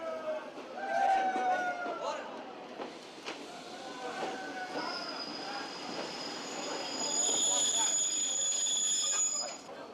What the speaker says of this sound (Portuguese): É uma pequena locomotiva a vapor que dia após dia faz a manobra dos vagões da via estreita junto ao entreposto de mercadorias